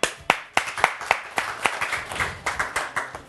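A small studio audience applauds a guest at a French-language broadcast, with a few distinct claps at first building into steady, close, rhythmic clapping and no speech over it.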